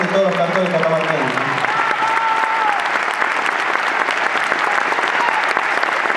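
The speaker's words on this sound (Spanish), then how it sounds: "Para los de Catamarca, un aplauso bien fuerte." Loud, dense applause from a folk music concert crowd, continuous throughout, with a voice speaking over it at the start.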